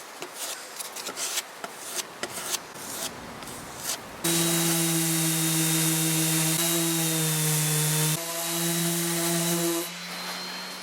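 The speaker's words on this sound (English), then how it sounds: "I'll just rake out this old filler and put a bit of filler in it." Power tool whine while old filler is raked out of a solid oak side table: scattered scraping clicks, then a steady loud motor drone with a brief pitch dip midway, then a cut-off.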